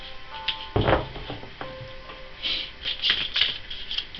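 Tarot cards being shuffled in quick riffling bursts, with soft taps and slides between them, close and fairly quiet.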